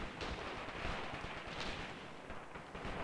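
Dense, continuous battle din of gunfire and artillery in the WW2 video game Graviteam, set on the Eastern Front in 1943, with overlapping shots and distant booms forming a steady roar throughout.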